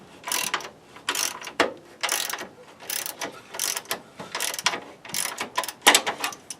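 Hand ratchet tightening a bolt on the steering damper bracket of a 1999-2004 Jeep Grand Cherokee, a steady series of close, crisp clicking strokes repeating about twice a second.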